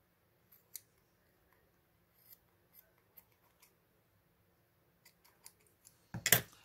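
Scissors snip while trimming a yarn pompom bunny, a few sparse soft cuts and then a louder cluster of quick closer snips at the end, with no talking.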